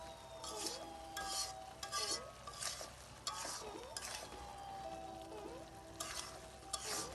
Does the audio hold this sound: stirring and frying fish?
yes